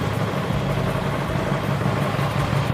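A motorcycle idles close by through a Euro 5 approved exhaust with the dB killer inserted, giving a steady, even rumble with no talk over it.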